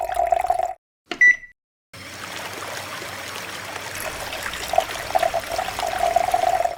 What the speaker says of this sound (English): Pour gasoline into the tank.